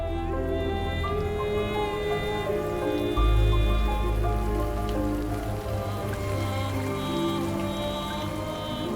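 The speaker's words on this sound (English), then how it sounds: "water can fall as rain instead of snow" Spring rain falling steadily on a forest, a dense patter of drops heard under orchestral music with a low rumble partway through; no talking.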